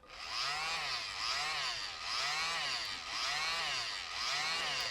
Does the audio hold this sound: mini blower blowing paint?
yes